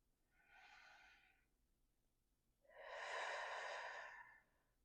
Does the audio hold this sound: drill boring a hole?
no